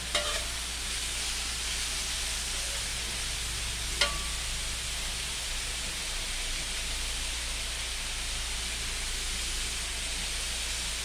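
Three-colour sweet peppers stir-fry in a hot pan with a steady, loud hiss of sizzling oil. A spatula knocks against the pan once near the start, and no voices are heard.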